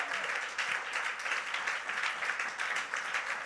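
A church congregation applauding and cheering in a large hall, dense sustained clapping with rising and falling waves of voices that keeps going throughout.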